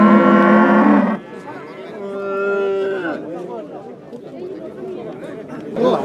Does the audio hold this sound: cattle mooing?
yes